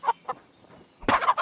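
Chickens in the video game Kingdom Come Deliverance 2, several short close clucks: two brief calls at first, a pause, then a louder burst of rapid clucking.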